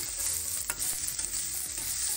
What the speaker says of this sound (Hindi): हमें सब्जियों को ज्यादा नहीं भूनना है, हाफ कुक करना है